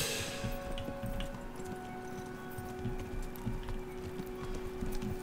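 Horse hooves clip-clop in a steady walking rhythm during night riding in the video game Kingdom Come Deliverance, soft and fairly quiet with little else around.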